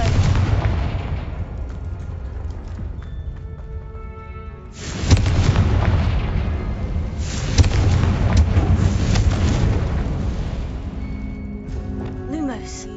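A Confringo fire spell detonating in the video game Hogwarts Legacy gives sudden booming blasts with a rumbling tail, the loudest around mid-clip, over game music and a speaking voice.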